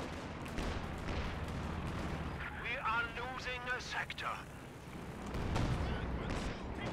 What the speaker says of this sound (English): Mortar carriage is opening fire.